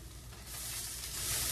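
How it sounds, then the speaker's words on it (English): Fried black drum fish crackles in a hot pan as a spatula lifts it out, a brief close sizzle that swells louder toward the end. "I'm going to use the spatula when I'm taking them out"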